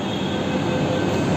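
A metro train at Rahate Colony station in Nagpur gives a steady, loud rumble and rail roar, continuous throughout with no voices.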